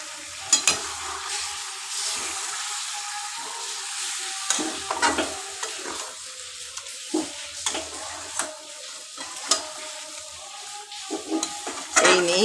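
Awadhi masala chicken sautéed in a pan with a splash of water, giving a soft steady sizzle broken by repeated scraping stirs and clicks of a spoon against the pan, fairly close, with no talking.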